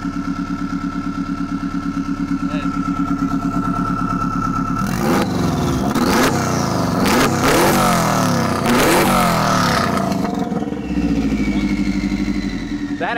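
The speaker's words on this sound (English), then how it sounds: "It sounds like a Subaru, but then I look at it and it's a Porsche." A Porsche Spyder fitted with a swapped Subaru WRX turbo engine idles with a lumpy, throbbing burble, then revs hard several times in rising and falling bursts, loud and close, before settling back to idle.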